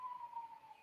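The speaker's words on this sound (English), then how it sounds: "And sorry if you can hear the sirens in the background." A siren wails steadily in the background with a sustained, slightly wavering tone, faint and distant, with no talk over it.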